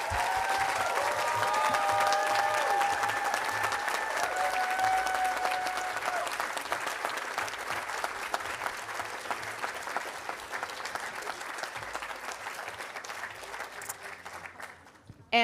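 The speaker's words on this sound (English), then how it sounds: "let's give the students a round of applause" Sustained applause from a crowd at a medical school awards ceremony, dense clapping that starts loud and gradually thins and fades over about fifteen seconds.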